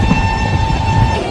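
A passenger train rolls along the rails to New Jalpaiguri, heard from inside as a steady loud rumble with a faint high whine throughout.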